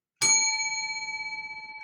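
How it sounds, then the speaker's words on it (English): A small bell struck once at a tea table rings out clearly, its bright metallic tone sustaining and slowly fading with a gentle shimmer over nearly two seconds, heard alone. "I'm going to ring the bell once again"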